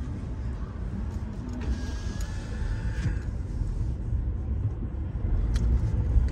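Steady road traffic rumbles along 7th Avenue in New York during the holiday season, a dense low drone of passing cars and buses with no clear individual horns.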